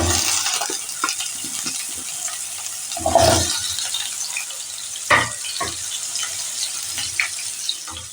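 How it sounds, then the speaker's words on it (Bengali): Pumpkin pieces drop into hot oil in a wok, setting off loud bursts of sputtering sizzle over a steady background fry with scattered crackles. "কড়াইয়ের তেল আমার গরম হয়ে এসেছে। এবার আমি কুমড়োগুলোকে ছেড়ে দেব।"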